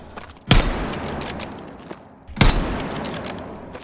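Two loud, sharp sniper rifle shots in Battlefield 6, about two seconds apart, each a heavy crack with a booming tail that rolls away into the background.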